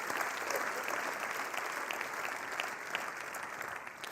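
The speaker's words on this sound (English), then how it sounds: "can I call for a round of applause at this early stage" A conference audience applauds during an onstage conversation session at a song summit, a fairly faint, even patter of many hands clapping throughout, with no one speaking over it.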